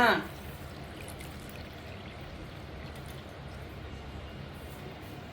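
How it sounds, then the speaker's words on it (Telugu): Warm water pours over feet in a steady stream, splashing continuously at close range, with a brief louder splash at the start. "కాలు పెట్టుకున్న తర్వాత గోరువెచ్చగా ఉన్న నీళ్ళు పోసుకోవాలి"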